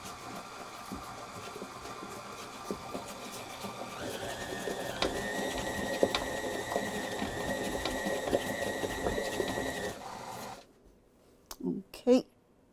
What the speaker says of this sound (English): Make sure you mix it,